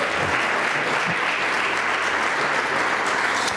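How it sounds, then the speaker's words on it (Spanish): A church congregation applauds together, a dense, steady wash of clapping from many hands sustained for a few seconds without a break. "Cuando dan un aplauso al Eterno."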